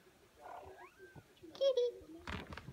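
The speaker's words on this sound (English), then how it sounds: "Hi, Kitty" A kitten indoors makes soft meows and a brief purr amid quiet room sounds, faint and close, with a voice speaking softly nearby.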